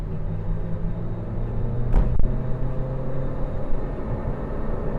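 Honda Civic FC 1.8 EL 2020 being accelerated, heard as a steady low engine rumble with a brief thump midway and a continuous drone throughout, no talking.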